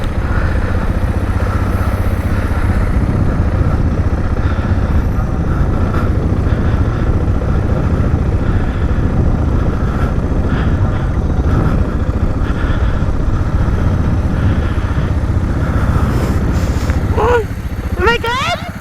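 A motorcycle engine runs steadily throughout a riding lesson, a loud close low rumble with slight revving changes, and voices talk over it.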